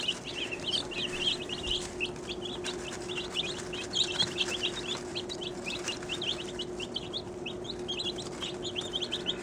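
Baby chicks peeping at feeding time, a dense chorus of quick high chirps running steadily throughout over a low room hum, close and moderately loud.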